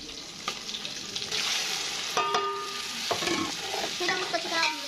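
Garlic ginger paste dropped into hot mustard oil in a pan, a loud continuous sizzle with bubbling and spoon-stirring clinks close by.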